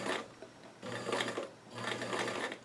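Lightweight denim for doll jeans is stitched on a sewing machine in three short close bursts, a buzzing whir with slight gaps between runs.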